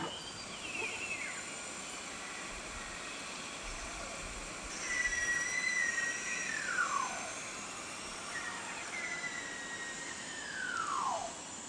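Three thin, high beluga whale whistles glide downward in pitch, the later two longer and clearer, over a steady background hiss.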